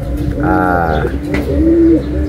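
Racing pigeons coo in a loft after a 342 km race from Aparri, Cagayan, a few soft rolling coos close by, set over a low murmur of other birds.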